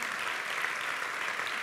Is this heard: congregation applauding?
yes